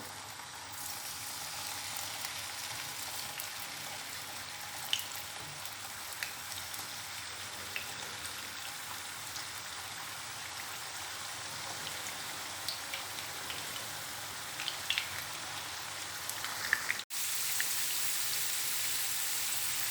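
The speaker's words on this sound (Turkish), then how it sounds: "Şimdi iri iri doğradığım patateslerimi çok az yumuşayıncaya kadar kızartacağım arkadaşlar." Steady crackling sizzle of chunky cut potatoes frying in hot oil, with scattered pops, continuous throughout and louder toward the end.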